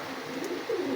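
Pigeons give soft, low coos close by, with a slightly louder rolling coo near the end and no talk over it.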